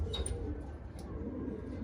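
Pigeons cooing faintly, soft low repeated coos from a few birds with a couple of brief higher chirps, quiet and somewhat distant with no talking.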